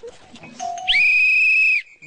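A single sharp whistle blast lasting nearly a second, loud and shrill, preceded by faint voices and noises and followed by a brief quieter tail.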